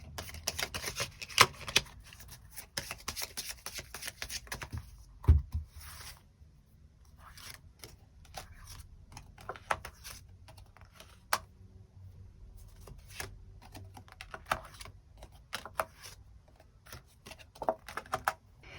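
Tarot cards being shuffled and drawn during a love reading: soft papery rustles, slides and taps come in scattered bursts, with a sharper snap near the five-second mark. The handling is close and fairly quiet, and no one speaks.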